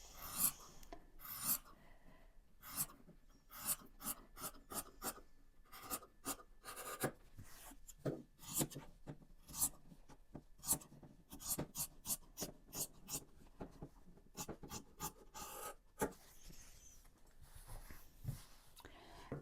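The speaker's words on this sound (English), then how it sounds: "Make sure you snip into the point without snipping your stitches to help it turn better" Scissors snip through quilted fabric and around stitching while a large Christmas bow is trimmed, giving a quick series of sharp, close, moderately faint cuts in uneven bursts, with no voices.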